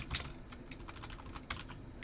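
Rapid keystrokes clatter on a new computer keyboard, a busy run of sharp clicks with brief pauses, close and fairly quiet, with no voices.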